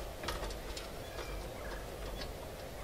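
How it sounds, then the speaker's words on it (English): Distant bird calls, gobbling cries rising a few times over a constant low outdoor rumble, faint and far off. "Those damn birds are annoying."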